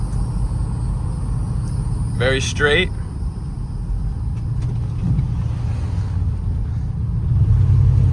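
A 1989 Chevrolet pickup truck drives along with a steady low engine rumble and road noise throughout, while someone talks briefly over it near the middle.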